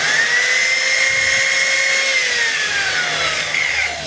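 Rewired DW014 electric drill with a new chuck spins up in a test run, a continuous whining motor hum with rising and falling pitch, close and alone.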